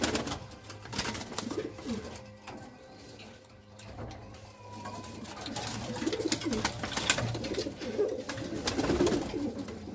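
Pigeons in a loft coo in overlapping throaty calls, moderately close, alongside scattered clicks, rustles and a faint steady hum.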